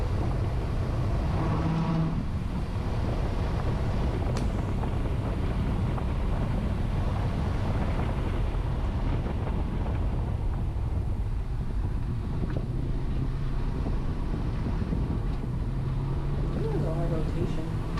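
A Spec Miata race car drives continuously at Sonoma Raceway during a track day, with a loud engine drone and heavy wind rush, steady throughout, while people talk faintly under the noise.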